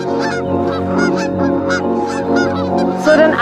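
A flock of geese honks loudly and continuously near a quietly moving Tata Nexon electric car, with overlapping calls throughout and no talking.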